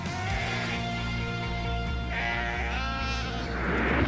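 Sheep bleat in long, wavering cries, several calls overlapping closely with a steady low rumble underneath.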